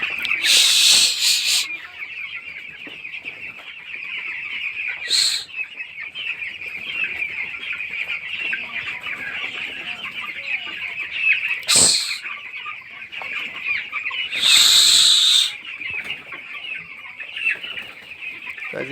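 Thirteen-day-old broiler chickens cluck and chatter continuously in a poultry shed, with a few louder bursts of calls and brief wing flaps standing out from the steady flock noise.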